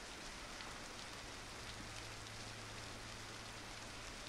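Rain from a storm easing off in the video game Beast of Bermuda, an even, unbroken hiss of falling drops at moderate level with no other sounds standing out.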